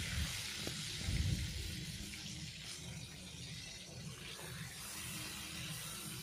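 A freshly flipped piece of rohu fish fries in hot oil in a wok. A close, continuous sizzle hisses steadily, with a brief louder burst near the start, and no voices.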